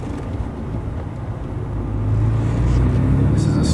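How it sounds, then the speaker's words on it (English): A 2007-2014 Toyota FJ Cruiser fitted with a ceramic clutch pulls away in second gear, its engine a steady low rumble heard from inside the cab that swells and deepens as the vehicle gets moving. "This is a start off in second."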